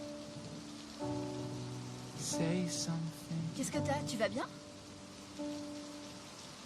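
Steady rain falls as a constant hiss throughout a short exchange of spoken dialogue, with a low sustained hum underneath.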